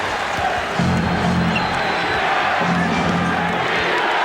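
Arena crowd at the Forum during a 1991 NBA Finals game between the Lakers and Bulls, a dense sustained roar with swelling cheers that rise twice, loud and continuous under faint commentary.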